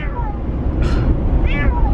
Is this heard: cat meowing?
yes